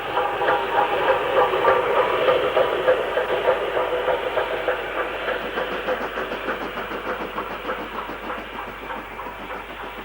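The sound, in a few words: steam banking locomotive dropping away from a train at Grayrigg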